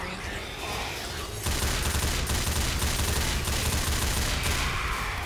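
Video game gunfire rattles in dense, sustained automatic bursts that jump louder partway through and continue as a continuous roaring barrage.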